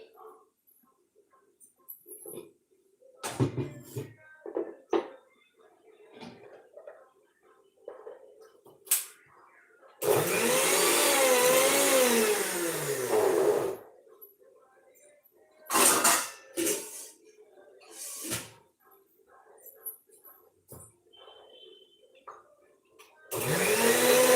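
A mixer grinder whirs loudly for several seconds grinding mint rice masala paste, set between scattered clinks, bumps and short kitchen noises before and after.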